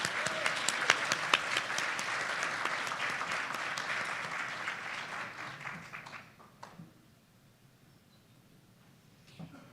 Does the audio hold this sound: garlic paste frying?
no